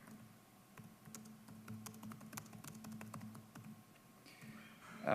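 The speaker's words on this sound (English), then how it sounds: "as it plays, you would be typing what you're hearing" Quiet, rapid typing on a computer keyboard, a steady stream of light key clicks over a low hum, ending with a louder clack.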